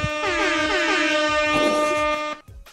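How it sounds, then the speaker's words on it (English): Loud MLG-style air horn sound effect blasts in a rapid, repeated stuttering burst on a live stream, then cuts off abruptly. "No MLG air horns."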